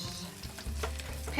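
Chopped garlic with ancho chili powder, cumin, oregano, allspice and cinnamon stirred in a hot pan, giving a close, steady sizzle with soft scraping strokes of the utensil.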